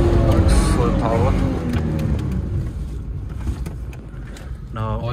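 A 4x4 drives at full power while dune bashing, its engine roaring loudly at first and then easing into a lower, steadier drone, with people talking over it inside the vehicle.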